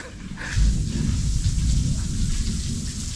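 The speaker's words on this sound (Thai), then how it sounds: "มาวันฝนตกด้วย" Heavy rain pours steadily at a beach at Sattahip, Chonburi, with a deep rumble of thunder rolling through. The downpour stays loud and continuous for the whole stretch, with no voices.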